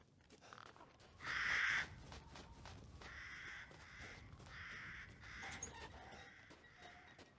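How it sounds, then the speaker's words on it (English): Crows cawing and a bird screeching in the Resident Evil Village video game, a series of harsh repeated calls with one loud caw early, set against quiet background noise. "Is that a bird screeching in your game or mine?"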